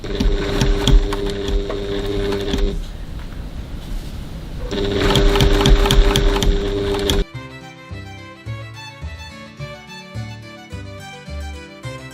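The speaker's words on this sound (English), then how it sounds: "So now I'm going to set my machine to the longest stitch that it will do." A sewing machine set to its longest stitch bastes foam onto a bag's exterior gusset, running in two loud, steady mechanical bursts with a short pause between them, followed by music.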